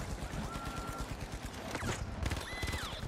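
An enemy turret fires in The Finals, a fast, continuous rattle of shots running under the in-game soundscape for about three seconds.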